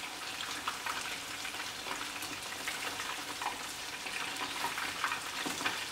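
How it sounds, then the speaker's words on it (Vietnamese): Chicken wings coated in batter fry in a pot while being stirred continuously, a close, steady sizzle broken by frequent scraping and clattering stirs. "Các bạn đảo cánh gà liên tục, chở liên tục để cho cái phần bột ở dưới nó không dính đáy xoong"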